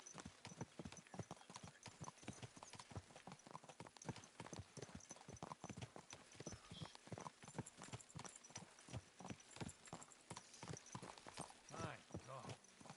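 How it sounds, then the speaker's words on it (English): Steady clip-clop of horse hooves in Kingdom Come: Deliverance II, in a quick, even rhythm throughout, close and clear, with faint game ambience behind. "My God, that looks like a bloody expensive horse."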